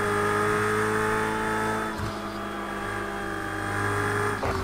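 A race car in Project CARS 2 screams along at high revs, a loud sustained engine whine with harmonics shifting as it brakes and changes gear around the two-second mark, then climbs again.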